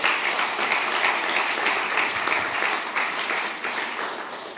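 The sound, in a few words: audience applause at award ceremony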